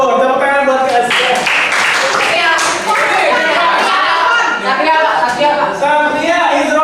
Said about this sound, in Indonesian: Tepuk tangan buat Askia.